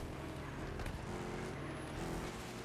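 A Hellcat car's engine in a racing video game, a steady dense roar held at constant loudness throughout, with no pauses or gear breaks.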